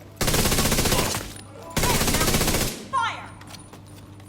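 Automatic rifle fire in The Division 2 rings out in two loud, sustained bursts, followed by a brief third shot and ringing echoes, close and harsh.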